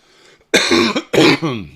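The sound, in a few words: man coughing into the microphone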